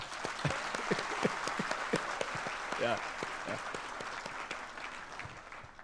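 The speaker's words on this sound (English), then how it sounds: "So we can clap for him" Audience at the University of Nairobi clapping for visiting guest Bill Gates: dense, steady applause from a crowd, with a voice speaking briefly over it.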